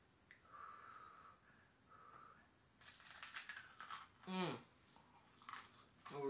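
Crunchy fried wonton being bitten and chewed up close, a few crisp crackling bites and chews in short bursts, with talk around them.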